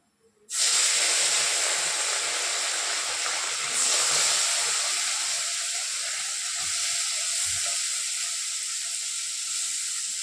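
Fish frying in a pan on a home stove gives a loud, steady hiss that bursts in abruptly and keeps sizzling evenly throughout, with a faint scrape or two underneath.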